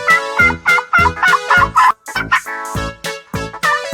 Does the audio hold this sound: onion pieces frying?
no